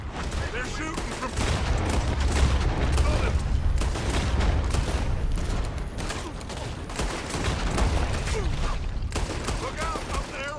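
Heavy gunfire in a Red Dead Redemption 2 shootout, continuous overlapping shots and volleys near and far, with people talking and shouting over the fire.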